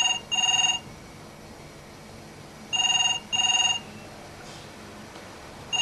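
A telephone rings unanswered in a British school drama, sounding three double-burst rings with long gaps of quiet between them, fairly loud and clear with no voices.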